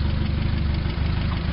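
Steady, close idle from a 1979 Triumph Spitfire with steel bumpers, a low, even engine throb with a regular pulse and no voices.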